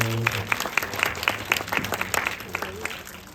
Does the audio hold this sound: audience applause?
yes